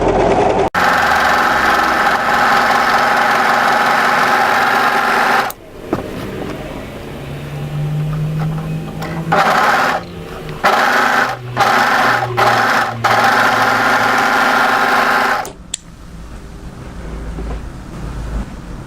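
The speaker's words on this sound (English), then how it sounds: "what I'm going to do now is just overlock the hems of the sleeve before we start." An overlocker serges the sleeve hems of a knit tee dress, a loud close continuous whirring run that pauses briefly near five seconds, then continues in choppy stop-start bursts before settling into a steady hum.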